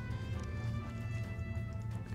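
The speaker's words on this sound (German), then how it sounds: "Irgendwie ein Pferd oder so." A horse in the video game WildStar snorts and clip-clops faintly beneath a steady low hum and tonal background music, with no one talking.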